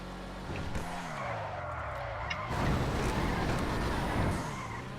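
A car in a racing video game drifts wide with nitrous, its engine roaring steadily while tires squeal and skid continuously, loud and close for the whole stretch with no voices.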